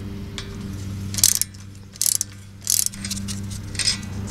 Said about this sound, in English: now we could use our ratchet to remove the bottom bolt completely